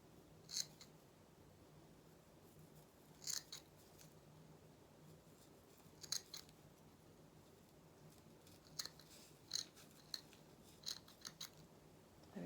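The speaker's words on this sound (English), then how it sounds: "even though I've cut on the line?" Scissors cut through faux fur fabric in a quiet room, giving a handful of soft, crisp snips at uneven intervals over a faint background hiss.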